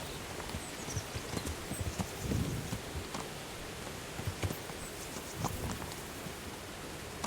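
Horse hooves clip-clop steadily at a moderate pace in the video game Kingdom Come, fairly quiet against a rain-like ambient wash, with no talking.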